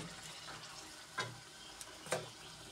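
Dried red chillies fry in oil for a dal tempering, giving a continuous soft sizzle with a couple of brief scraping or clinking stirs and no talk.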